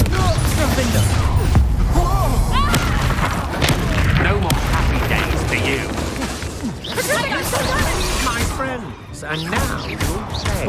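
Confringo spell explosions boom repeatedly during a Hogwarts Legacy battle, layered among crashes and other combat effects, with voices shouting over the dense, continuous noise.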